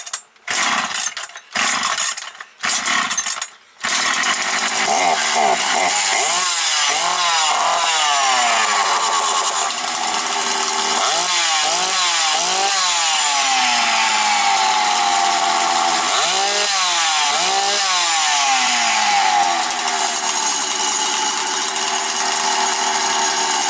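A Husqvarna 365 chainsaw is pulled several times, then catches and runs loud and steady, with repeated revving swells over a continuous buzzing two-stroke engine.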